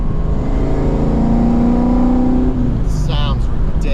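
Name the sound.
Coyote V8 engine revving through exhaust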